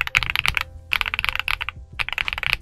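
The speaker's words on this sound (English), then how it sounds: "I like this cloud switch. It is a little bit deeper than the last switch I took a look at" Typing on a Royal Kludge S85 tenkeyless mechanical keyboard with cloud switches: close, rapid bursts of deep-toned clacks in three quick flurries separated by brief pauses.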